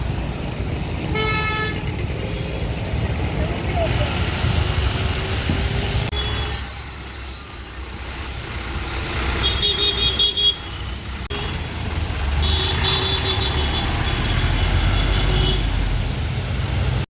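A bus idles loudly on a rainy street, its engine rumbling steadily throughout, with a few short horn toots and brief bursts of passing traffic before it pulls away.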